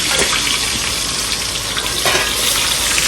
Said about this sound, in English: Gotta be careful when you're frying stuff